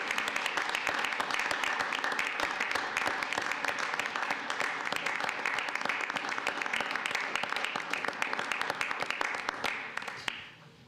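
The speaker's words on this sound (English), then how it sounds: "let's have one more round of applause for these great police officers" Sustained audience applause for police officers at a town board meeting, dense steady clapping from a crowd lasting about ten seconds before tapering off at the end.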